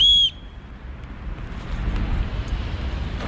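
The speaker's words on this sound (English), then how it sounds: "That's also got a whistle on it." One short, shrill blast from a whistle built into an Osprey Aether AG 70L backpack sounds at the start, then fades into a low outdoor rumble.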